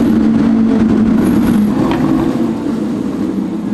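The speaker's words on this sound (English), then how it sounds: "turns out to be two Ferraris, a red one and a white one, and then also a Rolls Royce just rode by" Two Ferraris, one red and one white, and a Rolls Royce roll past on a street, a loud, continuous low engine rumble and road noise that swells slightly and then eases.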